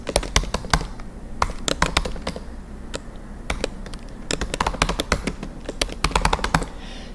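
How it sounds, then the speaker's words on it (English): Fingers type on a computer keyboard in quick irregular bursts of sharp, close key clicks, with short pauses between runs of keystrokes and no talking. "type it in like this."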